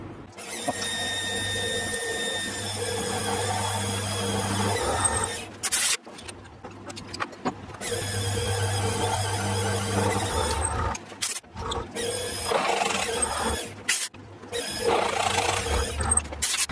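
A belt sander rounding the ends of steel pieces grinds with a high whining drone in two long passes with brief breaks between them, then shorter bursts near the end, loud and close.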